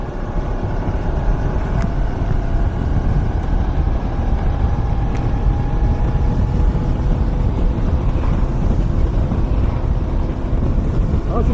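A car cruising at about 40 km/h in fourth gear on a quiet road, a steady loud low rumble of engine and road noise with wind buffeting the microphone throughout.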